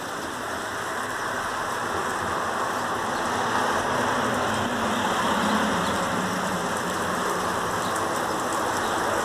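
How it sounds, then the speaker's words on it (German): Continuous dense rain hiss during a strong afternoon thunderstorm in Ingolstadt, fairly loud and even throughout, with a low rumble underneath like a nearby engine. "Es regnet."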